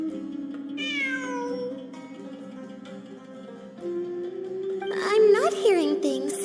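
A cat meows in Genshin Impact, one rising-falling meow near the start, then a louder cluster of cries toward the end, over a soft musical background with tinkling tones.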